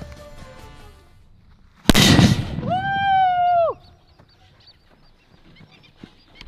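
A Diwali firecracker goes off under a metal bucket and launches it upward, one sharp loud bang followed by a fading crackle, then a sustained crowing-like tonal call.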